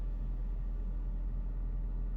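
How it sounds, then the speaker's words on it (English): A Peugeot 207cc's engine cooling fan keeps running with the car switched off, giving a constant, steady whir and low rumble that stays even and unbroken throughout. "Still hear the cooling fan going."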